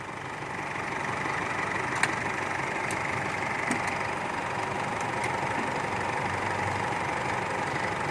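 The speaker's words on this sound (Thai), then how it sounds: "ไม่ต้องดับเครื่องเลยใช่ไหมครับ" A 2013 Isuzu All New pickup engine idles steadily and close, a constant low rumble with a few faint clicks and no talking.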